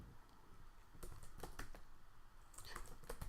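Code being typed on a computer keyboard: quiet, close key clicks in irregular bursts and quick runs, with no voices.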